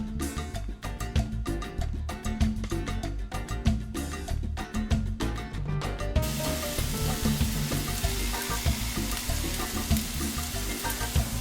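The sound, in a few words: taco meat sizzling in a hot skillet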